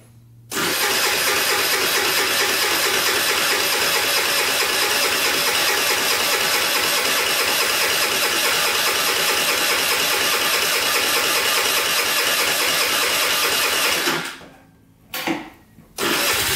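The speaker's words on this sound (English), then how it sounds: "let's see if that new battery can crank it over." A scrap-pile moped engine cranks on a new battery and catches, running loud and steady at a fast idle for about fourteen seconds before cutting out, then giving a couple of brief restart bursts.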